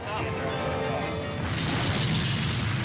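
An aircraft's number 2 engine explodes: a heavy booming rumble with a sharp jump in loudness partway through, dense and continuous, like an engine blowing apart.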